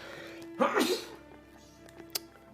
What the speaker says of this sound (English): That was a big sneeze.